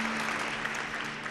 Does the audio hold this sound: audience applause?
yes